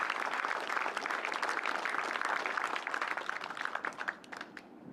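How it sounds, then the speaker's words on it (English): Crowd applause at a U.S. Army Task Force Talon change of command ceremony, a steady wash of many hands clapping that holds for several seconds, then thins out toward the end into scattered claps. "Can I get a round of applause?"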